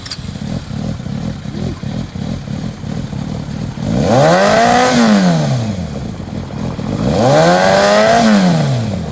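A 2002 Yamaha YZF600R middleweight sport motorcycle idles with a close, lumpy clatter. Its engine then revs up twice in long smooth sweeps, rising to a loud whine and falling back each time.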